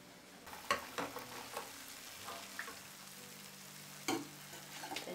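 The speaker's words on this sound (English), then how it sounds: "Slowly drop it into the warm sugar syrup." Freshly fried jalebi drops into warm sugar syrup with soft, brief crackles and a few sharp taps and splashes over a quiet background.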